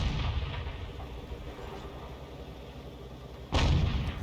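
A tank in a video game takes a hit, giving one loud, sharp, booming impact near the end after a low, rumbling stretch, heard without talk.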